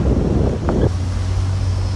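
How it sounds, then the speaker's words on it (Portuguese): Wind rushes hard into the face of someone riding up through a car's sunroof on a road trip through Serra da Canastra, a steady loud roar and buffeting across the microphone with a low hum beneath, no talking. "Vento batendo na cara."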